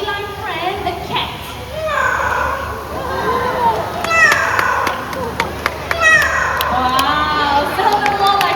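A show parrot imitates a cat's meow at a bird park performance, giving several drawn-out, wavering meows over crowd noise and chatter, with sharp clicks and some talking around it.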